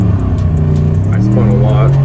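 A cammed 2006 Monte Carlo SS accelerates hard in a 0-60 roll, its engine note climbing steadily in pitch, loud and close, with a driver speaking over it.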